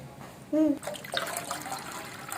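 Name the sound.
water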